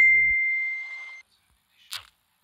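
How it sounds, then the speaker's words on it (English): A single clear phone message notification ding rings out indoors, a bright tone fading over about a second, followed by a faint short rustle. "my phone just made a ding noise because someone messaged"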